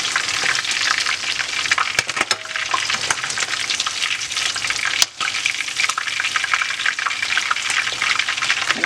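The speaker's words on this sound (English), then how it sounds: "I'm going to fry the rest of the fish." Fish sizzles and crackles steadily in hot oil in a pot, a dense continuous frying hiss with occasional stirring clinks, close and fairly loud throughout.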